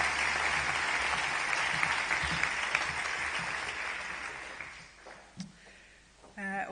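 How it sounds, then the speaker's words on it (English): An audience at the Ockham New Zealand Book Awards ceremony claps in a dense, sustained round that gradually fades out, and a brief voice is heard near the end. "another round of applause for Elizabeth Cox"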